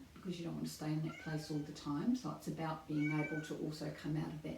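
A pet cat meows several times, drawn-out calls rising and falling, heard under a person talking steadily nearby.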